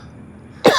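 A single short cough bursts out near the end after a near-silent lead-in, close and fairly loud, with no talking around it.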